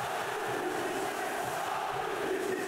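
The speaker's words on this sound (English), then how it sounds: "given a rousing send-off by his teammates and the Parc des Princes crowd" A stadium crowd at the Parc des Princes roars steadily in a dense, sustained wash of cheering for a departing Paris Saint-Germain player at a Ligue 1 match, with no single voice standing out.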